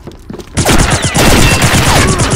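Rapid video game gunfire erupts after a quiet start, a loud dense burst of automatic shots with sharp repeating cracks that fills the rest of the moment.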